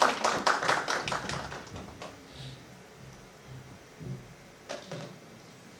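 A small audience at a judicial officers' gender sensitization workshop gives brief, sparse clapping for the next speaker, fading out after a couple of seconds, followed by scattered faint taps and room noise.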